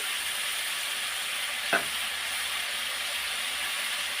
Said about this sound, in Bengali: সাঁতলানো হয়ে গেছে, দেখুন আমার একটু তেল ছাড়তে শুরু করে দিয়েছে।